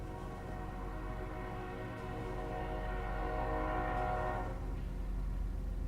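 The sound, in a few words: trains in the video game Factorio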